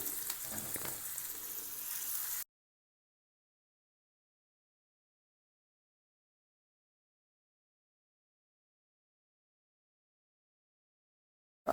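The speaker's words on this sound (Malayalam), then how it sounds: "2 ടേബിൾ സ്പൂൺ വെളിച്ചെണ്ണ ഒഴിച്ചതിന് ശേഷം നേരത്തെ മാരിനേറ്റ് ചെയ്ത് വെച്ചിരിക്കുന്ന ചെമ്മീനെ നമുക്കിതൊന്ന് ഫ്രൈ ചെയ്തെടുക്കാം" Marinated prawns fry in coconut oil in a pan, giving a loud, dense hiss of sizzling for about two seconds before the sound cuts to silence.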